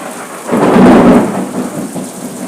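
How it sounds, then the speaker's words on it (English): Thunder rolls through steady rain, a loud low rumble swelling within the first second and then fading into a continuing wash of rainfall. "I don't like thunder and lightning."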